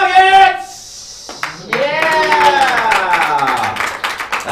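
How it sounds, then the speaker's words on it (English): A comedy-show audience gives a sparse, hesitant round of clapping, scattered and uneven, while a host's loud voice carries over it near the microphone. "That was a very hesitant clap."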